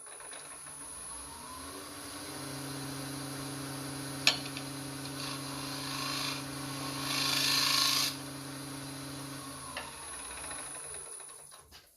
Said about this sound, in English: Now break out my Thompson Tool negative rake scraper, clean the bottom up.